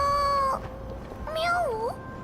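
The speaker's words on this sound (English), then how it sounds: "Meow." A cat meows twice in the game Honkai Star Rail, a clear rising call followed by a longer wavering meow after a short pause.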